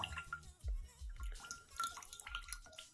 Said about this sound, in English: I poured some of our paste into a strainer, and we're just going to push down, try to get all that water out